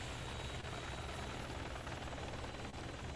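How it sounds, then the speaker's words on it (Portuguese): Helicopters in the video game Resident Evil 3 produce a continuous, dense rotor drone that stays loud and even throughout, with no talk over it. "Pera, isso é bom ou ruim, esses helicópteros?"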